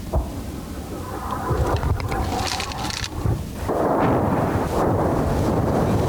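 A heavy roaring rush swells and builds as guided glide bombs fly in, followed by a deep sustained rumble like distant explosions and aircraft noise, loud and continuous, at a front-line position in Zaporizhzhia.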